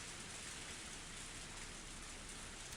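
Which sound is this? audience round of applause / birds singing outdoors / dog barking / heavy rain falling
heavy rain falling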